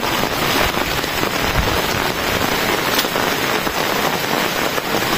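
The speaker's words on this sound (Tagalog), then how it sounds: "Pero tahintuin po natin tong ulan kasi medyo lumakas." Heavy rain pours steadily outdoors, a dense, loud and continuous hiss of drops on surfaces with no pauses and no voices.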